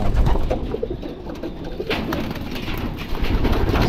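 Pigeons in a loft coo steadily and fairly close throughout, with soft bird calls layered over a constant rustling background and no voices.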